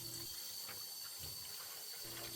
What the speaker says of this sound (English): you can just take some water and a brush and rinse this sediment out of the bottom of the reservoir